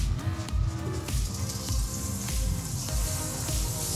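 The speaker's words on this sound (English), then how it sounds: "Now that we got a good coat of butter going here in the pan, kind of sizzling, not burning," Butter sizzling and frying in a cast iron skillet at medium heat, coating fish for blackened-style cooking; a steady continuous crackle and hiss with faint spits and pops, close and moderately loud, with no talking.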